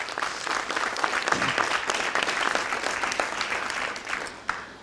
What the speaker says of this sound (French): Merci encore de les applaudir.